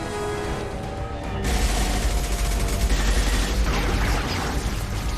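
Dense, sustained gunfire from a Mass Effect 2 firefight in the Nos Astra district of Illium rises abruptly and stays loud, a continuous rattle of shots with no voices heard.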